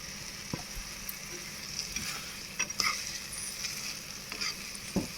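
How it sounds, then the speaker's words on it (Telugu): A spicy Andhra egg paste curry is stirred without pause in a sizzling pan, with soft scraping strokes and occasional spatula knocks over a constant frying hiss. "ఇలా కలుపుతూ ఉండాలండి, అసలు ఆపకూడదు. దగ్గరికి అయ్యేంత వరకు కలుపుతూ ఉండాలి."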